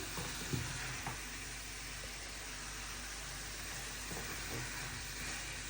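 Meat being fried and stirred in a pan makes a soft, steady sizzle under a broad hiss, with a few faint clinks and scrapes of stirring scattered through and no speech.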